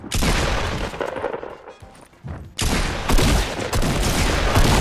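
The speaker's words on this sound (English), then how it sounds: "I might or might not have thrown a sticky grenade straight at the ground and then jumped on it and got stuck in a corner." Loud blasts from a video game firefight involving a sticky grenade: a heavy burst of explosive noise, a quieter dip with scattered thuds, then another long, dense roar of detonation and gunfire.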